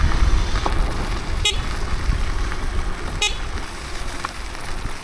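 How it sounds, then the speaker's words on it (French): A Dualtron Victor Luxury+ electric scooter sounds two short horn toots a couple of seconds apart while riding, heard over steady wind rush and road noise. "Alors, un petit coup de klaxon."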